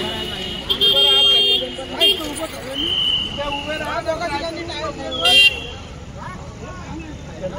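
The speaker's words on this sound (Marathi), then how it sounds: "Full traffic jam." Car horns toot repeatedly in a heavy traffic jam on the way to a village fair, with short and sustained honks over a constant rumble of vehicles while people talk nearby.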